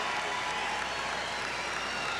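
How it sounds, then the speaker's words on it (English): An audience at the 1988 Vision Pro Skate Escape skateboarding contest applauds skater Tony Magnusson, a steady wash of clapping and crowd noise that holds at even loudness throughout, with no voices rising above it. "Let's give him a big round of applause"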